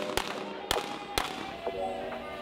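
Three sharp pistol shots at a USPSA shooting competition ring out in a steady rhythm, loud and fairly close, followed by a couple of fainter pops.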